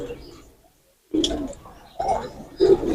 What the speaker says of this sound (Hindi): ये दोस्तों ये बुलेट कबूतर है चैंपियन छत के